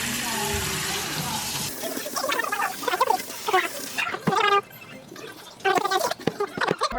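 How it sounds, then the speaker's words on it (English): Water running in a kitchen while something is rinsed before making tetrazzini sauce, a steady splashing hiss that cuts in and out, with people talking close by over it. "I'm gonna start washing this with some water just to clean it."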